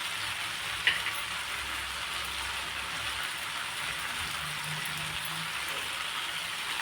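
Veg pulao rice simmering in a covered pot over a low gas flame, giving a steady soft crackling hiss with faint sizzle throughout and a brief small knock near the start.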